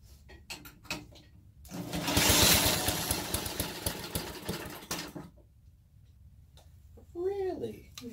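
A cheap $20 gas lawn edger engine sputters with short pops, then catches and runs rough and loud for a few seconds before dying down; voices talk before and after.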